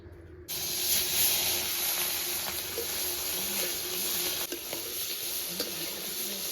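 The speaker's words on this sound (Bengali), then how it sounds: "তেল গরম হয়ে গেছে এবার চিংড়ি মাছগুলো ভেজে নিচ্ছি" Spice-coated shrimp frying in hot oil in a pan give a loud, steady sizzle that starts abruptly after a brief silence and holds unbroken throughout, with no talking.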